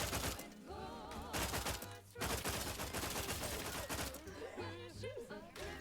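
Rapid bursts of gunfire from The Outer Worlds 2, a sci-fi shooter, crackle loudly in clustered volleys mixed with game music, voices and combat effects throughout.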